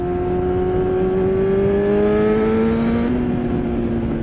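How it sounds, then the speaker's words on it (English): A sport motorcycle engine accelerating on a street, a loud, close, steady engine drone that rises in pitch through the gears, with one brief shift near the end. "easing on the throttle, the clutch"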